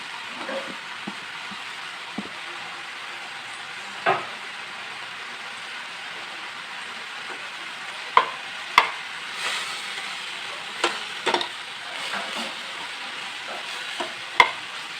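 Capsicum and vegetables sautéing in a pan under a constant soft sizzle, with occasional sharp spatula knocks and scrapes against the metal, scattered and close.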